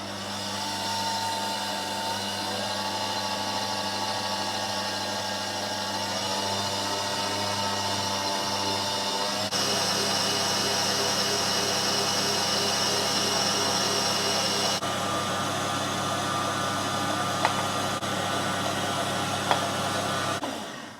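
An electric mixer whisks meringue while caster sugar is added a little at a time, a constant high whirring drone that holds steady throughout with a few small clicks near the end.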